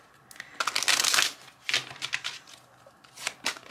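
Tarot cards are shuffled close up in a series of quick riffling bursts separated by short pauses, crisp papery flutters heard alone.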